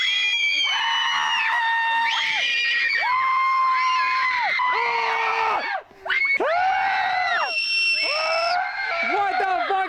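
Several people scream and shriek together in a corn maze at a family farm, loud, sustained high-pitched yells overlapping almost continuously, with one brief drop near the middle before the screaming resumes.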